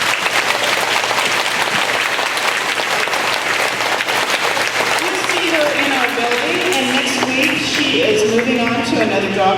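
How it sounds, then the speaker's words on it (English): Applause from a school assembly crowd for a departing staff member, a steady wash of clapping with some cheering that carries through, with voices rising over it in the latter half. "Give her a round of applause."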